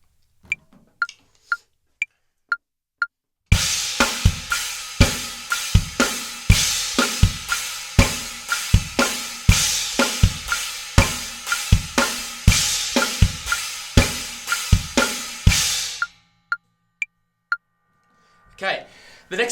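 A drum kit grooves on a 2-against-3 polyrhythm split across kick, china cymbal and snare, dense repeated hits for about twelve seconds, framed by sparse isolated clicks before and after.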